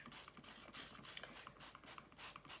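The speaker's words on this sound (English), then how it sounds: "So first thing we're going to do is spray our fleece all over" Hand spray bottle misting soapy water over wool fleece for wet felting, a run of short repeated pump bursts with a steady rhythm, each puff a brief bright hiss, close and fairly quiet.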